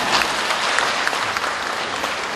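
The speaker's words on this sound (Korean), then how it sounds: "또 공감하시면 박수를 하셔야 돼요" Audience applause fills a lecture hall at a talk on household manners after meals, a steady dense wash of clapping from many hands with no break throughout.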